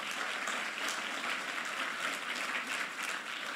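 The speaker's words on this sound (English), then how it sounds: "Big round of applause for where we are tonight." Applause from an audience at an awards ceremony on board the SS Rotterdam, a dense, steady wash of clapping throughout with no talk.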